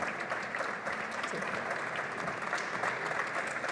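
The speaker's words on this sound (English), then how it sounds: "give them an applause" Steady audience applause at a privacy award ceremony during a conference, a continuous dense clapping crowd at moderate level with no talk over it.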